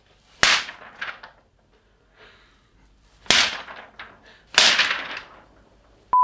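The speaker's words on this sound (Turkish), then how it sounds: "İzlediğimiz aksiyon filmlerindeki silah sesleri bir adet kağıt ve bir tane kalemle yapılıyor." A pen struck against a sheet of paper makes a gunshot sound effect for action films: three sharp, loud cracks with short decaying tails, spaced a second or more apart, plus fainter softer hits between them.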